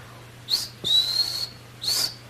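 A person whistles three high-pitched notes imitating a kingfisher call, short, then long, then short, loud and near against a faint steady hum.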